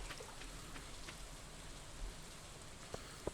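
Soft, steady rain patters in Stardew Valley, a faint continuous hiss with a few scattered droplet ticks and no voices.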